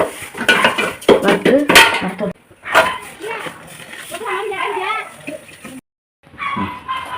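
Pan and ladle clatter while semolina is stirred and roasted for kesari in a home kitchen, a run of close, busy metallic scrapes and knocks that eases off, pauses briefly near the end, then resumes.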